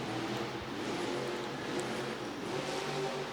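Monster truck engine on BKT tires roaring steadily as it powers through a muddy Monster Jam arena track, a continuous loud drone with no clear rev peaks, set against the noise of a large indoor venue crowd.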